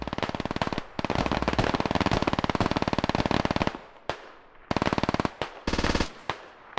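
Automatic rifle fire in a military video game, loud and close, with long rapid bursts broken by short gaps and a few single cracks toward the end.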